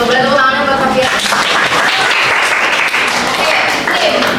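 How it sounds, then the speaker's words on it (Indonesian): A school classroom applauds a student with a burst of dense clapping from many hands, loud and sustained throughout. It is preceded by a brief voice at the start. "Boleh tepuk tangannya buat Sofian."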